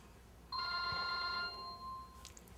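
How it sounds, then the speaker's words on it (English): Telephone ringing indoors, a single bright electronic ring lasting about a second, heard fairly near over quiet room noise. "Hang on a moment till it's done ringing."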